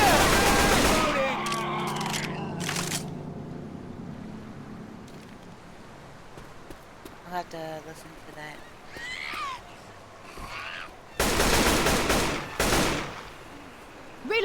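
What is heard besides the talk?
gunfire in a zombie shooting video game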